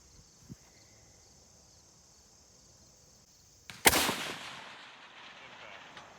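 A roughly 75-year-old Type 99 Arisaka rifle fires a single loud, close shot after a quiet stretch with faint insect chirping, followed by a rolling echo that fades out.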